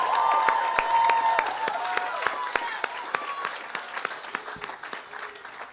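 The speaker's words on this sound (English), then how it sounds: "Now a big round of applause for those we don't always see, which is our facility staff and other staff members" A graduation audience at High Tech High applauds for the facility staff, with dense clapping close by that slowly thins out toward the end.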